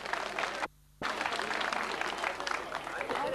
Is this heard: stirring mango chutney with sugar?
no